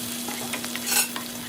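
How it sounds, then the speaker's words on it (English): Minced garlic and crushed ginger sizzle in hot oil with a steady crackle, punctuated by a few stirring scrapes; no one speaks. "sauté for 1 minute."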